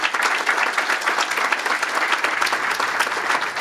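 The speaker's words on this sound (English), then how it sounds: "I would expect you to please give them a round of applause" Panelists at a councillors' convention receive a round of applause from the audience, a short, even burst of many hands clapping at a moderate distance.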